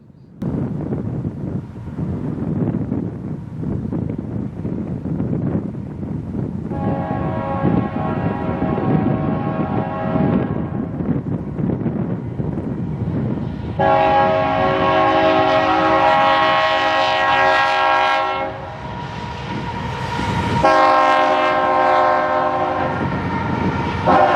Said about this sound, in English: This catch made for some interesting Doppler effect with the rare K3HL air horn.